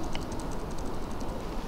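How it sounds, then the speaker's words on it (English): Fingers type on a computer keyboard during a conference presentation, a steady run of light, quick clicks over a constant room hum with no talking. "Maybe I should use a keyboard to show you how to move around."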